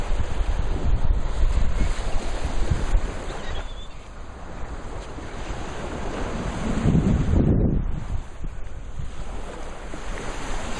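Surf washing in on Fort Myers Beach along the Gulf of Mexico on a morning walk, a broad steady roar of breaking waves with a louder surge near the end, mixed with wind buffeting the microphone.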